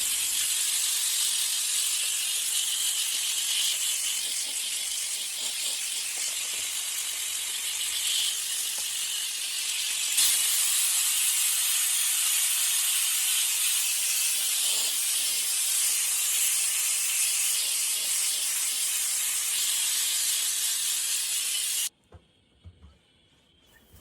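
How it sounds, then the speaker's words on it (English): A continuous hiss of a Saker handheld steam cleaner jetting steam onto oven door glass, steady for most of the clip before cutting off abruptly near the end. "I feel like the steam cleaner did a really good job on the glass."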